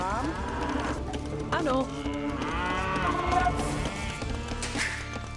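Cattle mooing in the video game Age of Empires II Definitive Edition, several long, drawn-out moos rising over game music and sound effects, with brief speech in between.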